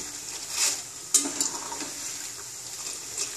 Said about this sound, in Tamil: பச்சை வேர்க்கடலையும் போட்டு நல்லா வறுத்துக்கலாம்.